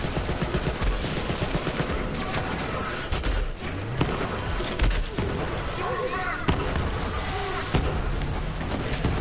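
Vladof assault rifle fire in Borderlands 3 rattles almost nonstop in rapid bursts, loud and dense, mixed with other game sounds and effects.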